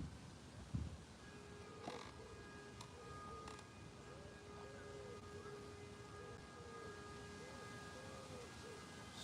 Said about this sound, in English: Sirens are going.